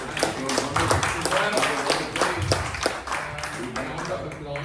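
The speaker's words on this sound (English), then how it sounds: "Round of applause." An audience claps steadily in a room, a moderately loud patter of applause with voices mixed in.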